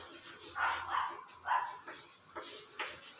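A dog barks in a series of about five or six separate woofs, the first few close together and louder, then spaced and a little fainter, with no talk over them.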